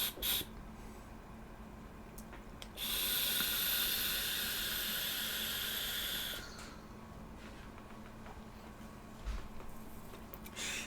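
Eleaf LEMO 2 vape tank fired at 50 watts, giving a steady hiss and sizzle for a few seconds amid low room noise, then cutting off.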